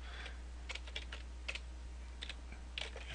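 Computer keyboard keys click in short irregular bursts during software setup, close and light over a steady low electrical hum, with no speech.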